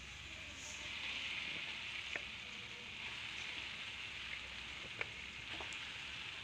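Pieces of country chicken drop into hot oil with masala for a gravy, giving a faint, steady frying hiss with a few soft pops and taps from stirring.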